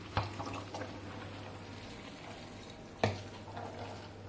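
Mushrooms with their sauce stirred in a frying pan for Polish bigos hunter's stew, a soft low sizzle with two sharp spoon knocks against the pan and a steady low hum beneath.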